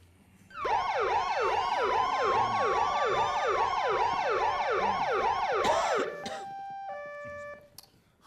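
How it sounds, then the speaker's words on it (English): A loud wailing police siren cycles rapidly up and down for several seconds, then cuts off, leaving a few short tonal beeps. "I don't hear any sirens, Buster."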